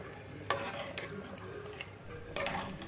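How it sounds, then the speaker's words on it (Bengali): Lentil and vegetable curry stirred in a pot with a utensil, giving soft scraping and clinking taps at a moderate, uneven pace, fairly quiet against low kitchen background. "এরপরে আমি একটু নাড়িয়ে নিচ্ছি।"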